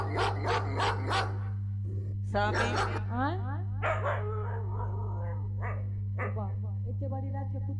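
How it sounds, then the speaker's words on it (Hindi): At night, a dog lets out several sharp barks and yips, then whimpering cries, over a steady electrical hum, with people talking in between. "एते बड़ी रात के कुत्ता कत लागे छै?"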